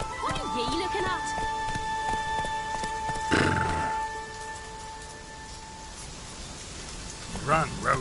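Roach, a horse in Witcher 3 set in Skellige, gives a loud whinny after steady hoofbeats and light rain-like ambience, with a shorter snort or neigh near the end and a voice talking early on.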